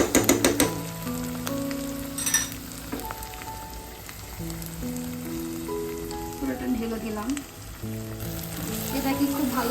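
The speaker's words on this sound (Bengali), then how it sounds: "ভালো ভাজা ভাজা করতে হবে প্রথমে মানে মশলাটাকে কষাতে হবে" A paste of ground poppy seed, mustard and coconut fries in a pan for a prawn dish, giving a steady close sizzle with soft crackle and occasional stirring scrapes throughout, no voices.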